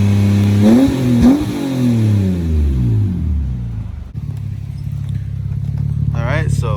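A third-generation Mitsubishi Eclipse fitted with a GReddy titanium muffler revs up and settles, its exhaust note rising and falling before holding a steady low drone, with voices talking over it.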